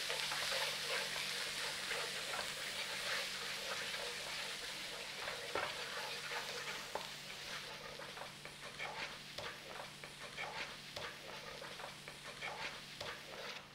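Onion paste and spices frying in a pan for beef keema, a steady close sizzle with scraping stirring strokes coming through more distinctly in the second half, no voices.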